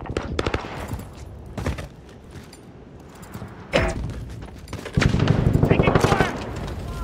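Bursts of FiNN LMG and other weapon fire in Modern Warfare (2019) multiplayer, sharp rapid shots in clusters with a loud sustained volley near the end, mixed with game sounds and voice callouts.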